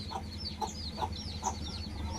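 Chickens and chicks cluck and peep in a steady, repeating pattern close by, with a low, constant hum underneath.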